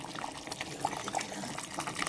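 Water poured into a simmering fish korma curry, a soft continuous liquid trickle and bubbling, moderately close and steady with no talking.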